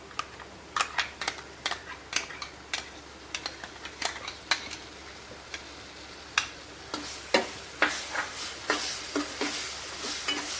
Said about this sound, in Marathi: हे थोडंसं हलवून घ्यायचं आहे, म्हणजे ही साखर वितळेल.